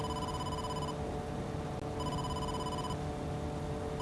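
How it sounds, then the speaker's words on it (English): A phone rings in AI: The Somnium Files, with two bursts of an electronic ringtone separated by a short pause, steady and clear over a busy game background. "You have a call. Don't take a call."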